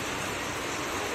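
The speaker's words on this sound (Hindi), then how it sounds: "बारिश हो रही है" Steady rain pours down during a sudden summer downpour, a dense, even hiss that fills the whole short stretch without any voices.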